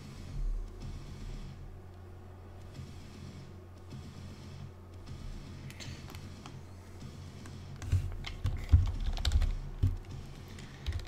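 Computer keyboard keys pressed at a desk, scattered soft clicks over a low hum of room noise, with a denser burst of louder taps near the end; no speech.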